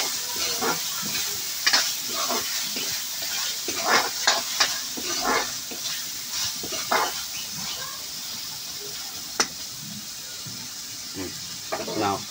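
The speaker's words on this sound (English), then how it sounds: "let it cook also the tomatoes together with the spices" Tomatoes and spices cook together in a pan with a faint, continuous sizzle, punctuated by scattered clinks and taps of a utensil stirring; a voice talks quietly over it now and then.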